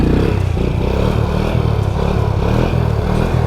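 A quad bike engine revs steadily and loudly at close range as the rider pops a wheelie, a continuous throaty drone with rapid rhythmic pulsing.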